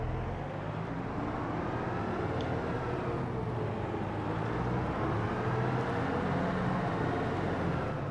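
A tractor engine in multiplayer Farming Simulator on the Huron County map drones steadily and evenly throughout, a constant mid-loud rumble with no breaks and no talk.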